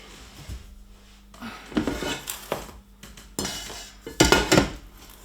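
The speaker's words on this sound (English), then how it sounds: "We're going to get this big pot here." A big metal cooking pot is lifted and handled before vinegar goes in for homemade Branston pickle. It gives several loud, irregular clanks and metallic knocks, with quieter rattles in between and no talk.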